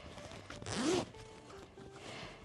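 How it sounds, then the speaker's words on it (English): A single quick zip of a canvas tote bag zipper pulled close by, amid faint room noise and light handling sounds. "It also has a zipper enclosure and a zipper pocket."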